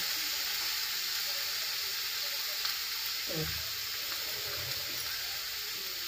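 Leafy vegetables stir-fried in a kadhai, a steady, even sizzle running throughout under a constant hiss, with a brief scrape or stir partway through.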